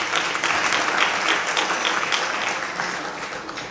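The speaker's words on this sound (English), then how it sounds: "Can you give yourselves a round of applause?" Youth audience at a G20 dialogue event claps together in loud, dense applause that gradually tapers off over a few seconds.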